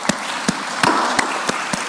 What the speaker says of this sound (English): So once again, ladies and gentlemen, big applause to Dr.